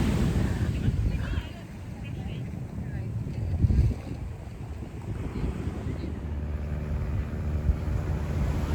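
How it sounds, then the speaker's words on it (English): Ocean waves at Venice Beach roll in as a steady, close, low roar of surf, with wind buffeting the microphone throughout. "You can hear the roar of the waves."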